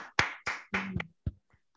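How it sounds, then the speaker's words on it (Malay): Sparse hand claps ring out in a small communication-course group session, four or five sharp separate claps spaced a fraction of a second apart, close and fairly quiet, then fading off. "Tepukan, tepukan."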